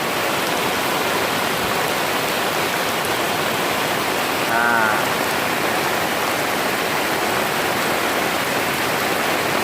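Heavy rain pours down while floodwater flows like a river, making a dense, loud, unbroken rushing wash with a brief voice partway through.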